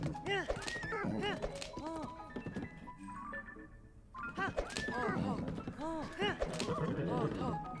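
Horse whinnying in the video game Tears of the Kingdom, several neighs and snorts repeating over about eight seconds, loud and close, with game sounds around them and a brief quieter gap in the middle.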